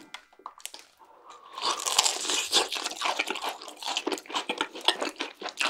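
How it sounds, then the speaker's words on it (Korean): Cheese-coated fried chicken gets loud, crisp crunching bites and chewing up close in a mukbang-style eating session, starting faint and building into dense repeated crackles with no talk over it. "치킨을 먹어볼게!"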